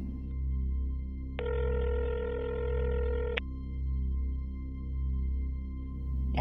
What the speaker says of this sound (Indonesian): Tunggu, saya telepon dulu Kang Barno ya.